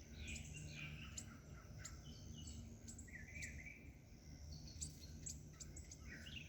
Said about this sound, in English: Sounds like all the birds are coming from this way now.